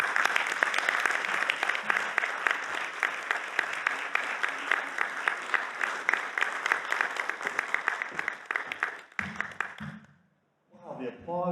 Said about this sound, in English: Wow, the applause continued until I got all the way up here.